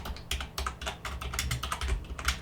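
Rapid, uneven keystrokes clatter on a computer keyboard, close and fairly quiet, with short bursts and brief pauses and no voices.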